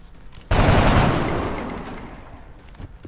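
Carbine fire in XCOM: Enemy Within starts abruptly as a loud, close burst of gunfire and then decays into a rumbling echo over a couple of seconds.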